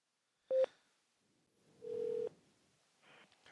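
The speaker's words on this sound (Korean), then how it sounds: "신라 형한테 전화해야 돼." Two short electronic telephone tones, a brief beep then a longer one, followed by a faint click, in an otherwise quiet room.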